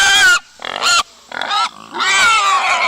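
Pigs on a small farm raised from piglets, giving several loud, close grunts and squeals in bursts with short pauses between.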